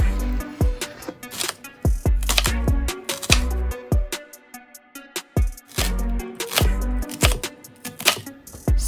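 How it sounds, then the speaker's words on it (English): A knife chopping an onion steadily on a cutting board, quick rhythmic thuds in bursts with brief pauses, close and loud with no talking. "Prep veggies by chopping an onion."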